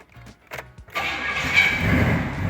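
A 1976 Pontiac Trans Am engine cranks a few times, catches and settles into a loud, rumbling idle close by, heard alone.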